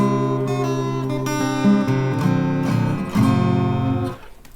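An out-of-tune acoustic guitar strummed in a few full chords, sour and clashing, loud and close, ringing on and then fading out at the end.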